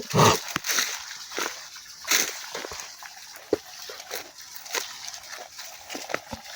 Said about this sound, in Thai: น้ำก็ไหลเยอะอีกจังเพราะว่ามันเป็นชั่วโมงแดดเนา